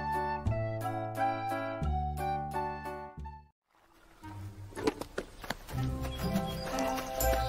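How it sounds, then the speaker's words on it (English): A horse neighs and whinnies with tonal, stuttering calls, followed by louder snorting and movement noises close by. "Here we go. Horse."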